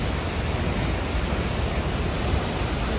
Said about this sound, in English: Okay, we're at the Thundering Waterfall.